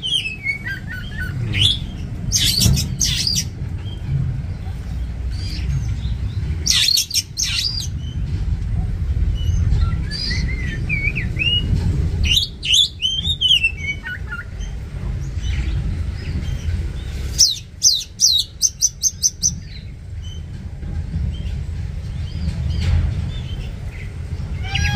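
A female Oriental magpie-robin at a nest sings loudly and close by, delivering repeated bursts of sharp chirps and whistled phrases over a steady background rumble.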